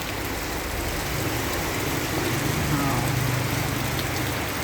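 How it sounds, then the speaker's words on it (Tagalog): Steady rain falls on a wet morning, a continuous broadband wash of drops hitting surfaces that stays even from start to finish, with some low background rumble underneath. "Ayan, maulan po sa atin."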